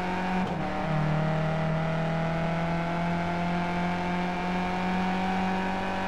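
Skip Barber Formula 2000 race cars in a racing video game at the Zolder circuit hold a close, loud, steady engine drone with a continuous high whine, with no talk.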